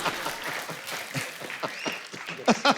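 Studio audience applause on a comedy talk show, brief scattered clapping mixed with voices and chatter over under three seconds.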